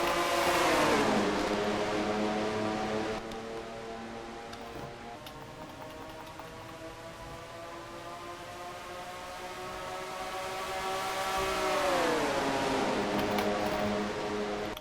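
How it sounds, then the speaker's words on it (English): Race car V6 engines roaring at a green flag start on an oval racetrack, a loud sustained engine drone that rises, dips and climbs again as the field passes close by. "V6 engines roar to life here at this racetrack here."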